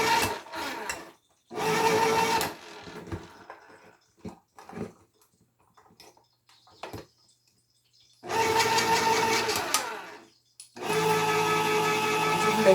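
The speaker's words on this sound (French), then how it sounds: "je suis en train d'ouvrir les cannes" Cans are opened in a home kitchen with what sounds like an electric opener: four loud, buzzing motor bursts, each a second or two long, separated by quiet stretches with faint clicks and handling noises.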